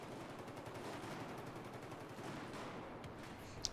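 Rapid automatic gunfire from enemy soldiers in the video game Battlefield 4, a dense continuous rattle of shots at low volume with one sharp crack near the end.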